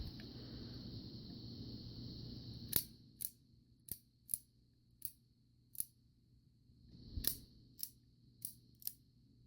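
Shutter of a 1950s Kodak Brownie Bull's Eye camera clicking about nine times in an irregular series, sharp close mechanical snaps over a quiet background, with a soft hum fading out early on.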